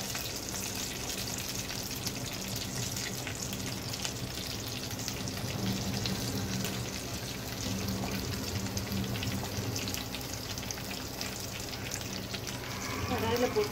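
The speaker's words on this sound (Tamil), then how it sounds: "கடாயில் போட்டு கொஞ்ச நேரம் வதக்கணும்." Stuffed ridge gourd sautés in a kadai with mustard seeds and curry leaves, giving a constant, dense sizzle and crackle of frying oil that holds steady from start to finish.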